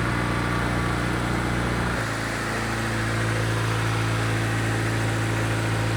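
A Honda EG fitted with a turbocharged K23/K20 engine idles steadily, a low droning hum with a slight shift in tone partway through, heard alone without talk.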